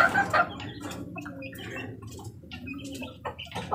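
Thirsty young chicks peep and chirp in quick, irregular bursts at close range, high thin calls scattered over a soft background murmur, with no one speaking.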